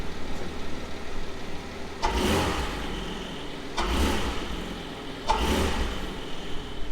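A Porsche 718 Cayman GT4 4.0 engine revs up three times in quick succession, each surge rising then settling back to a steady idle rumble, heard close by.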